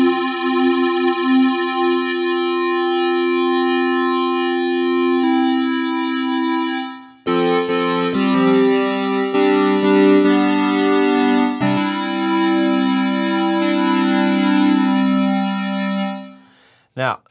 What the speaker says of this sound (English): Detune it for some bigger chords. Let's try on the square wave,